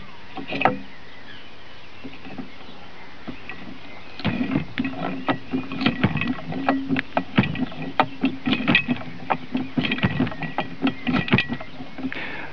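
Hand-powered lever fuel processor chopping wood, fed from the top: a series of sharp, irregular knocks and clacks with woody creaks, sparse at first, then rapid and steady from about four seconds on, close and without talk.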